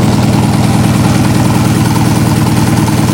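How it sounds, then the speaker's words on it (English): A barn-find Honda Hondamatic 750 motorcycle engine, misfiring and running on three cylinders with old spark plugs, idles loud and close with an uneven, pulsing throb that stays constant throughout. "So I think we may have it run on 3 cylinders right now."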